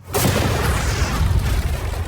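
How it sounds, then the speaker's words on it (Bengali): A large explosion booms close and loud, with a sudden sharp onset followed by a sustained roaring rumble and debris-like noise that carries on without fading. "ট্যাঙ্কের থেকে বিস্ফোরণটা কিন্তু বেশি ভয়ঙ্কর"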